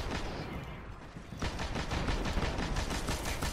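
Sustained gunfire aimed at a boss in Destiny, a dense rapid stream of shots that thickens after a brief lull, loud and continuous with little else over it.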